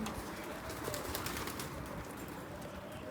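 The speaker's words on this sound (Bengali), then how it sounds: "এই দেখেন এগুলো কিন্তু কবুতর" Pigeons coo softly and repeatedly amid a steady outdoor hiss at a village-style resort in Oman, the low rolling calls fairly faint and continuous, with no talking.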